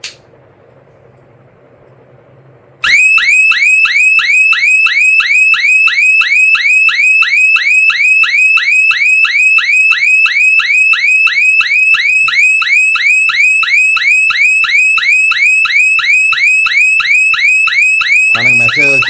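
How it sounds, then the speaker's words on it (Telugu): Aqua Guard GSM motor protection and voltage monitoring unit sounding its alarm: after a few seconds of quiet, a loud electronic siren starts and repeats its rapid rising-falling warble steadily and close to the end. "1 minute మ్యాక్సిమం వస్తుంది సైరన్ సౌండ్"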